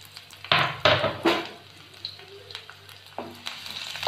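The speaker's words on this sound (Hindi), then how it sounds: "इसे सुनहरा होने तक फ्राई कर लूँगी।" Finely chopped ginger and garlic hit hot oil in a wok, giving a few sharp bursts of sizzling followed by a softer, crackling fry with light stirring.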